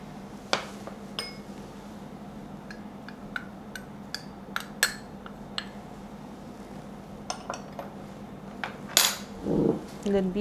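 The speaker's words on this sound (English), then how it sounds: "And then beat this just until it is incorporated." Eggless New York cheesecake batter with corn flour and all-purpose flour is beaten in a bowl, giving sparse, irregular utensil clinks and taps against the bowl over a steady low hum, with a brief scrape near the end.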